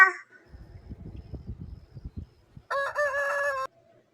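A rooster crows once near the end, a loud, clear cock-a-doodle-doo standing alone, after a stretch of faint low thumps and rustles and a brief sound at the very start.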